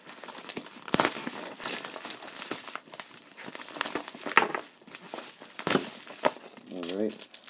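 A plastic package holding a hockey jersey is torn and ripped open by hand, giving crinkling and tearing bursts with sharp crackles, fairly close and moderately loud.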